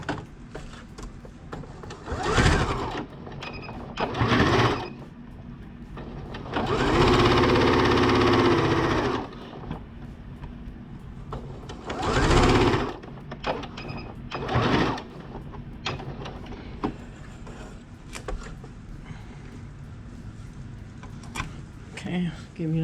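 A sewing machine stitches purse material in several short whirring bursts, one lasting about two seconds. A person talks between and around the bursts.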